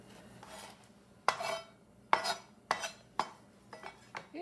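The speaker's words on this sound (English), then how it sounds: "take your knife and just cube it up" A knife cubes raw chicken on a cutting board, making about six sharp, separate chopping knocks at an uneven pace, close and fairly quiet, with near silence between strokes.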